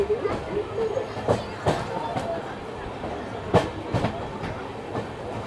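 The Palnadu Express with new LHB coaches rolls along the tracks after departing Begumpet station, with rhythmic wheel clatter and bumps over rail joints under a low rumble, heard from inside the train.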